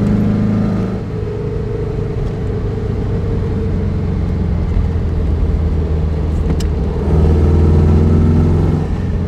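A 1963 Porsche 356 B T6 Cabrio, tuned to about 160 hp, accelerates on small rural roads in Bavaria, its engine note rising and falling through gear changes, close and loud over road noise.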